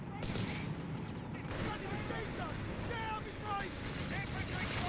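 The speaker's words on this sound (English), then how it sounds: "this Flak Panzer is absolutely going to shred that infantry" A Flak Panzer firing on infantry during a Company of Heroes 3 battle, dense rapid gunfire and explosions forming a loud, continuous barrage with a voice talking over it.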